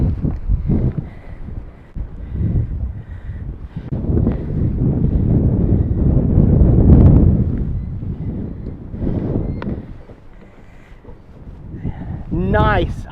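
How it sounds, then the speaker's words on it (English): Strong wind buffets a fishing boat out on the water during a fall walleye trip, rumbling loudly against the microphone in gusts that swell and fade. Someone talks throughout the noise. "I don't even know if y'all can hear me that well with this wind"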